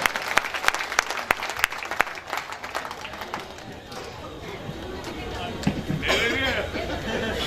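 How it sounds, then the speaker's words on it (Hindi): Audience applause at a Hindi comic poetry show: dense clapping from a large crowd, loud at first, then thinning into scattered claps and chatter before swelling again near the end. "तालियां बजा"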